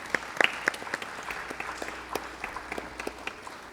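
A room full of spectators applauds at a Bangalore arangetram classical dance recital, the steady patter of many hands moderately loud and slightly distant, with a few sharper claps standing out near the start.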